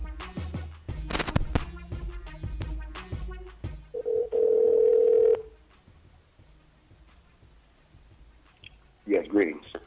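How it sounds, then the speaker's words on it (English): Phone call being placed: clicks and button taps lead into a steady dial tone of about a second, then quiet line hiss and a brief voice at the end. "Let's get ready to make this phone call."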